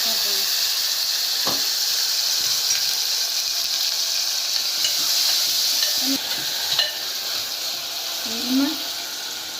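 Tomatoes dropped into hot oil for tempering sizzle and hiss steadily, with a few stirring clinks and scrapes, heard up close in a home kitchen.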